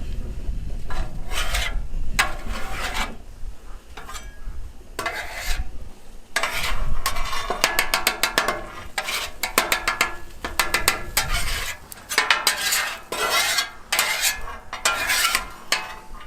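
A metal spatula scraping and rasping across a Blackstone flat-top griddle while eggs cook for fried rice, in repeated bursts of harsh scraping with short pauses between, fairly close and loud.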